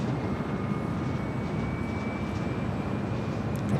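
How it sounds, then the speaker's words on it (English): A United Airlines Boeing 757-300 taking off at Los Angeles International Airport, a loud, steady jet engine roar with a broad rumble and a faint whine, constant throughout and heard from a distance. "Taking off there, that was United Airlines Flight 1400 heading to Chicago O'Hare in that 757-300"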